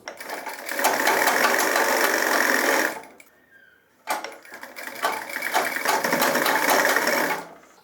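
Sewing machine stitching a trouser facing in a tailoring shop, two bursts of fast steady stitching separated by a short pause.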